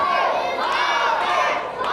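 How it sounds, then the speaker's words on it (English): A loud, dense crowd roars and cheers continuously at an independent wrestling match in Denham Springs, the noise steady throughout with mixed shouts and chatter. "you can hear the crowd here loud at Denham Springs behind the Wildthing"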